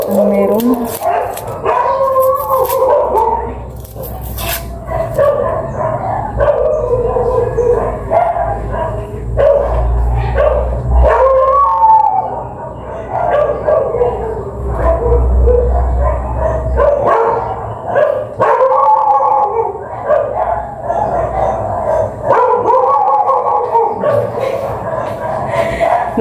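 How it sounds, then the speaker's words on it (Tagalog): Several dogs bark, yip and howl repeatedly from beyond a neighbouring fence, an irregular noisy chorus that rises and falls throughout, with a person talking now and then over it. "Bakit kaya maingay ang mga aso?"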